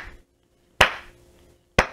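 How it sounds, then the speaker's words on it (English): Two sharp, separate hand claps about a second apart, loud and close, standing alone against near silence. "Can we just give 2K a round of applause, please?"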